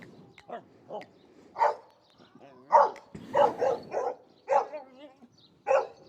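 A dog barks repeatedly in short, loud, close bursts, with some higher yips and whimpering between barks, in uneven rhythm with brief quiet gaps.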